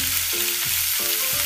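Potato croquettes sizzle steadily in hot oil, a dense, even crackle with faint stirring or turning clinks repeating every half second or so, close and moderately loud.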